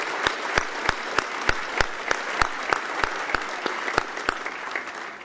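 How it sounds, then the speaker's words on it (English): An audience applauds governors at a climate summit, a steady wash of clapping with sharp individual claps standing out throughout, loud and sustained with no talk. "please give them another great big round of applause"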